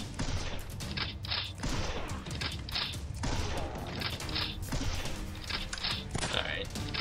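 Repeated gunfire in the video game Dead Zed 2 fills the whole stretch, with overlapping shots and mechanical clatter in a busy, continuous barrage.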